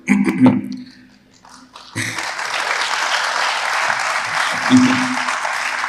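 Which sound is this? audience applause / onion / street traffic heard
audience applause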